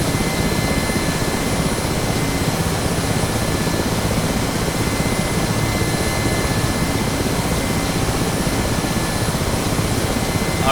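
A Mi-8MTV2 helicopter in the DCS flight simulator runs its engines at full throttle, giving a loud, constant turbine roar and rotor drone with a steady high whine, unbroken for the whole stretch and heard with no talk.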